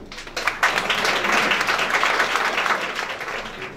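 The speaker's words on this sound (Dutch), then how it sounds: "Applaus, meester." Audience applause at a carnival stand-up comedy performance, a dense wash of clapping that starts abruptly after a brief pause and holds steady at full strength, no voices over it.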